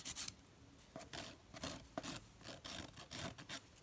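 A nail file rasps along the side of a fingernail during a dip powder manicure, making a quiet, close, rhythmic scratching of quick repeated strokes with short pauses between them, with no talking.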